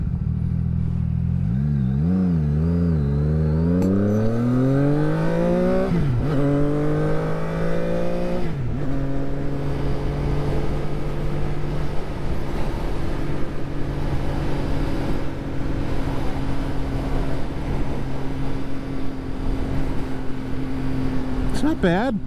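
A CF Moto 675SS sport bike's engine revs up and down through gears while riding, then settles into a steady high drone with wind rush; a rider talks over it.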